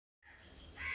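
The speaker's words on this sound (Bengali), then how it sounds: "কি সুন্দর পাখিরা ডাকছে," A crow caws once, faint and distant, outdoors at dawn on an empty street.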